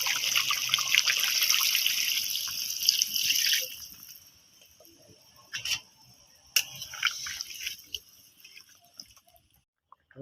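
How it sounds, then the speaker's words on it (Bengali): Water pours steadily from a vessel into a pan of browned chicken curry for boiling, then stops, leaving a few faint drips and light knocks. "এবার পরিমাণ মতো আমি জল দিয়ে এটাকে সেদ্ধ করব।"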